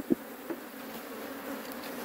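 A bee swarm buzzing around a hive during a transfer to a standard box: a steady, faint drone with no break, with a couple of soft knocks near the start.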